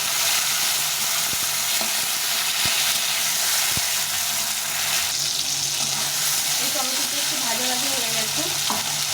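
Tomatoes, dry red chilli, cumin and a bay leaf frying in mustard oil, a loud steady close sizzle with a few sharp spoon knocks against the pan and stirring scrapes.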